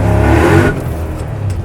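A 1986 Chevrolet Silverado pickup with a swapped LT4 V8 pulls hard, its deep engine roar loud and close, then dropping to a lower steady drone as the revs fall.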